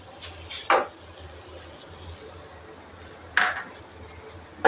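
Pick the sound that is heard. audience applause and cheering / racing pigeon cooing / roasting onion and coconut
roasting onion and coconut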